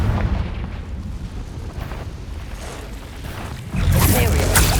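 A Confringo blast spell explodes in the Hogwarts Legacy video game, a continuous rumbling roar that swells into a louder, brighter burst near the end, with a voice over it.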